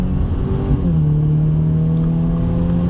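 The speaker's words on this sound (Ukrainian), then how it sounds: "А зараз ми спробуємо в режимі Sport Plus зробити розгін від нуля до сотні." Subaru WRX GT 2022 with a 2.4-litre turbo engine and CVT automatic, accelerating hard from standstill to 100 km/h in Sport Plus mode; a steady, loud engine drone holds a rising then level pitch throughout, with no talk.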